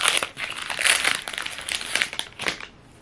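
Pokemon card booster pack wrappers, including Paradox Rift packs, crinkle and crush as they are torn open by hand, with close, busy rustling bursts running almost continuously before fading at the end.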